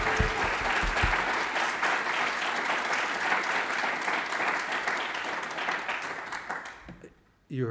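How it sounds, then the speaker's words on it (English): A graduation ceremony audience gives a big, sustained round of applause for a university brass quartet, dense clapping filling the hall before fading out near the end. "please give a big round of applause to the brass quartet of the University Concert of"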